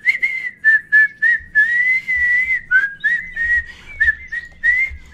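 Melodic whistling from a quirky Italian-played video game, a run of short rising and falling tones in bursts with brief gaps, clear and close, with a low thumping underneath in places.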